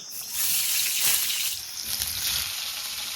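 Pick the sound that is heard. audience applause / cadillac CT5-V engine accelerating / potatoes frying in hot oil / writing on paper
potatoes frying in hot oil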